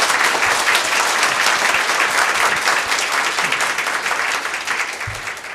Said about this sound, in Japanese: では拍手をしてフルクテンバウム先生をお迎えください